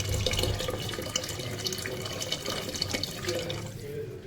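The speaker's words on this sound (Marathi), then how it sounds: "हवं तसं पाणी टाकून द्यायचं" Steady splashing of water poured into a pressure cooker of rice, continuous and close, with a faint metallic ring as it pours.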